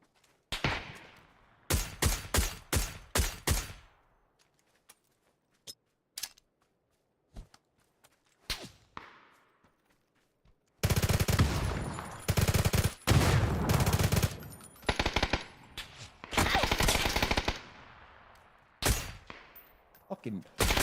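Gunfire in the battle game PUBG: scattered single shots and short bursts early on, then longer stretches of loud, dense automatic fire, with a voice talking in places.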